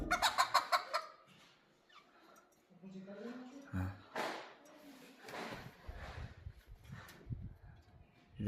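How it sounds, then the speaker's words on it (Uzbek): Chickens cluck and squawk inside a metal-framed poultry cage, a loud burst of calls at first, then scattered clucks mixed with close talking. "Tovuqlar nima deyapti tovuqlar?"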